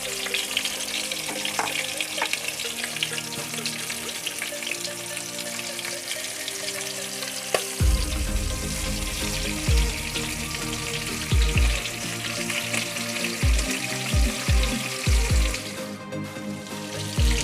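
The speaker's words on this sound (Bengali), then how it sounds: "এবার ভেজে নেব মাছের মাথাটা" A fish head rubbed with salt and turmeric frying in hot oil, a continuous sizzle with crackling spits, joined midway by repeated low thumps and spatula knocks against the pan.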